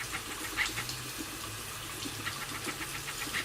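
Tap water runs and splashes steadily over a soapy makeup brush being rinsed clean by hand, a soft continuous flow with small gurgles, fairly quiet and close, no voices.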